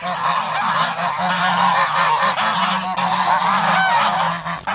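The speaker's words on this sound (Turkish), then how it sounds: "Bunlar geçen sene benim yavrudan büyüttüğüm kazlar arkadaşlar." A flock of year-old domestic geese honking loudly and continuously nearby, overlapping calls filling the whole stretch with no talk.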